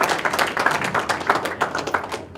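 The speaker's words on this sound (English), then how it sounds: "Give a round of applause" Audience applause for a speaker finishing a talk at a ChicoX event, a small group clapping at close range with distinct, uneven hand claps that thin out toward the end.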